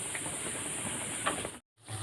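Breaded chicken cutlets frying in hot white oil in a wok, a steady close hiss with faint crackle and patter that cuts out briefly near the end before resuming.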